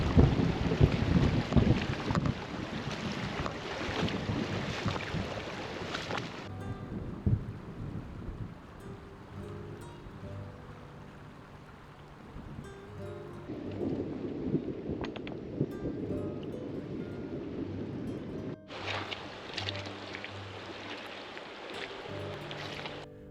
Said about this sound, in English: Then the wind picks up and the trees start whispering the same advice: leave now.